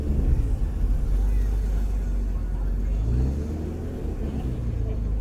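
A 2023 Nissan Z Proto Spec engine at a California open house, a low steady rumble close by, with people talking over it.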